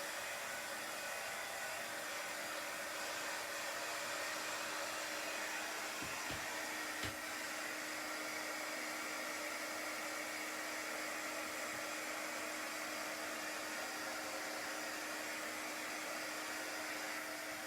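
A heat gun blows steadily, drying chalk paint on a vinyl stencil over a craft pumpkin piece, its loud, even whoosh running continuously with a steady hum and no talk.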